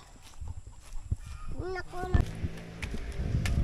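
A few honking duck calls sound nearby amid rustling and movement, with some faint voices in the background.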